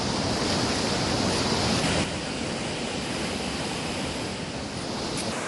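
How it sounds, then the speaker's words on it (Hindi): Rushing floodwater of the swollen Ganga river near Rishikesh during monsoon flooding, a loud steady broadband roar of churning waves and surge with no voices. "देखिए ऋषिकेश के परमार्थ आश्रम के पास शिव की 15 फीट की विशाल प्रतिमा गंगा की लहरों में बह गई।"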